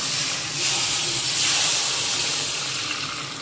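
Hot oil poured over a mixed vegetable pickle gives a broad, hissing sizzle that swells midway and then slowly fades, with no voices over it.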